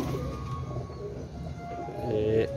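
Teddy breed pigeons cooing close by in a loft, soft repeated low coos layered over a steady bed of background noise, with a brief higher call near the end.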